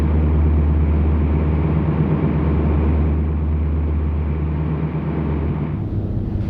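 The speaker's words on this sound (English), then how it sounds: "a primitive listening device to pick up the trail of an unseen enemy by the sound of his engines." Submarine engines picked up through a primitive listening device, a steady low droning hum with a constant mechanical pulse, muffled and dull, continuous with no voices.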